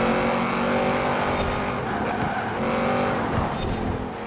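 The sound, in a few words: Audi RS7 car skidding in a racing video game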